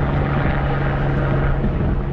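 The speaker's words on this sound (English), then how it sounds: "Helicopter, are you going to Manhattan downtown?" Helicopter engine and rotor drone overhead near a whitewater rafting launch, a steady loud low hum with a sustained tone, continuous and unchanging throughout.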